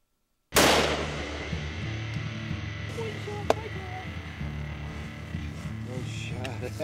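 A single loud gunshot from a whitetail deer hunt in Ohio cracks out sharply and then rings into a long, reverberant rumble that fills the rest of the moment, with a faint click partway through.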